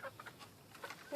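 A rooster in a chicken coop gives a few faint, short clucking calls in quick bursts, with some quiet background noise.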